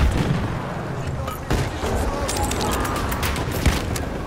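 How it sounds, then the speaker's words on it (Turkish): Grenade blasts and booming explosions from a Battlefield 1 battle, set against a dense, constant roar of gunfire and artillery, with a sharper hit partway through and a voice faintly in the mix. "Bomba atıyorum, çabuk olun."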